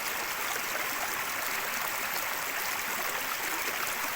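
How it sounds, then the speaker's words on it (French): A waterfall and flowing water make a steady, dense rushing roar, close and continuous throughout with no voices. "La cascade, l'eau,"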